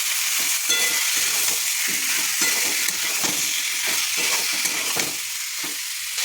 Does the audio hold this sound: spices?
yes